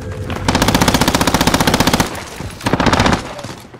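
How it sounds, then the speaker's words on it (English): Automatic gunfire in Warzone, two rapid machine-gun bursts, close and loud, the first longer and the second shorter after a brief pause. "There's people are shooting at us that way though"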